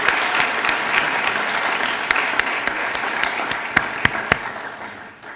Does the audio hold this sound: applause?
yes